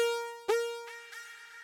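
Delay echoes of a sustained synth tone in Ableton Live with external processing in the feedback loop, each repeat coming back slightly altered and smeared, a sharp attack followed by two fading, filtered echoes, no talk.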